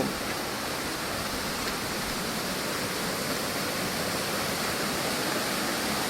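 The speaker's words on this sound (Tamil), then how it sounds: "ஃபைனலாக பார்த்தீங்கன்னா வாட்டர் ஃபால்ஸுக்கு வந்துட்டோம்" Odugathur waterfall in Vellore district pours in a steady, dense rush of falling water, loud and continuous throughout with no voices over it.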